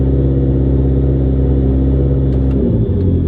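A McLaren engine holds a steady 2,000 RPM during an oil change, a loud continuous low rumble with even tone that dips slightly near the end, no talking over it.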